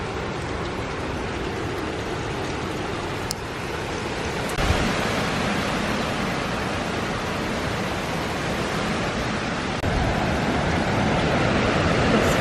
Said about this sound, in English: The winds have picked up some more.